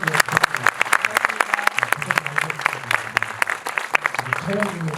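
A cinema audience at a film festival screening Q&A applauds, dense rapid clapping throughout, with a person talking over it.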